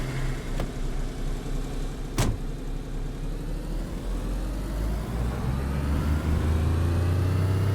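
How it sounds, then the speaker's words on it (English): A loud vehicle engine in the video game Sakhal runs steadily and close, with a low rumble that slowly builds in pitch and strength and a brief sharp knock early on. "Engine's really loud."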